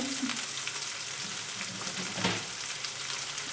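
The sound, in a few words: cumin and mustard seeds sizzling in hot oil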